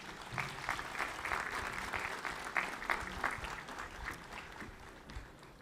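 An audience at a university's first academic lecture for new students in Skopje applauds steadily, a fairly faint, far-off wash of many hands clapping throughout with slight swells, and no speech over it.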